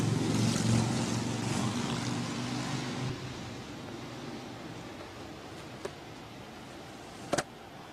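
Steady broadband roar of cars passing on a city street fades gradually, followed by a few faint clicks near the end, no voices.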